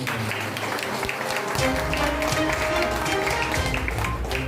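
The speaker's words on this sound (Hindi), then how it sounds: "ताली बजावली" Clapping from an audience gathered at a Christian community hall in Ran Bahadur Basti, Dalsingpara, during a minister's visit, a steady dense patter filling the room with a tonal hum and some murmuring underneath.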